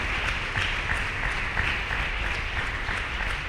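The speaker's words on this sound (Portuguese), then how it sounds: "Aplauda o Senhor Jesus." Church congregation clapping during a service, a continuous, fairly distant patter of many hands over a low background rumble.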